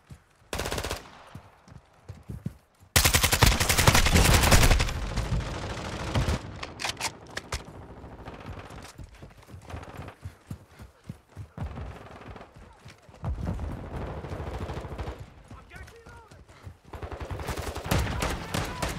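Call of Duty Modern Warfare II multiplayer hardpoint match: loud rapid automatic gunfire bursts with a long sustained volley early on, then scattered shots and further bursts, close and harsh.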